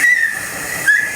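A person gives two short, thin whistles, one at the start and one near the end, over a soft breathy hiss.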